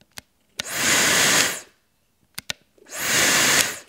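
An iDOO high-speed hair dryer rated at 110,000 RPM blasts in two bursts, each a loud airy rushing whine that swells up and fades away, separated by a short gap with sharp clicks from its switch.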